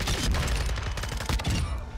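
Rapid, dense gunfire from the Call of Duty video game crackles continuously for two seconds, a loud overlapping fusillade of shots with sharp bursts throughout and no talking.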